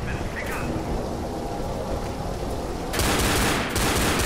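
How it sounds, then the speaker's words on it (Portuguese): Rapid automatic gunfire from a mounted machine gun in the zombie shooter game Left 4 Dead, a dense continuous rattle that jumps louder near the end, with brief faint in-game noises early on. "Eu não sei se eu fico nessa metralhadora aqui."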